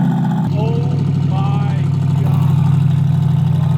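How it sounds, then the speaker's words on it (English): Corvette C8 fitted with an aftermarket Soul exhaust and a lowering kit, heard at its first cold start: a loud, steady, deep exhaust drone holding a high idle throughout, with a brief rising flare early on and talk over it. "We're gonna come back here and get the first cold start."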